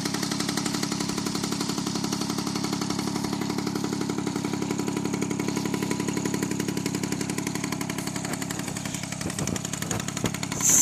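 Peugeot 103 SPX moped engine running warm after a hard start, a steady, loud two-stroke buzz with a rapid even pulse that holds throughout, a few rattly knocks near the end and no talk over it.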